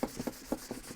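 Wax is rubbed by hand onto an old shellac wood finish, giving a few short, soft scuffing strokes in quick irregular rhythm, close and fairly quiet.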